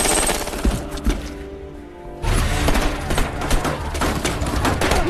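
Brutal automatic gunfire from a war film about fighting North Korean troops in Pohang crackles in heavy, rapid bursts, pausing briefly before resuming loud and dense.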